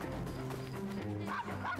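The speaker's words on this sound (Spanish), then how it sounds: "Menos mal que no para de ladrar." A dog barks and yips repeatedly in Assassin's Creed Syndicate near the old Wang Tan tavern, with steady, excited woofs and whiny tones mixed with game music and ambience.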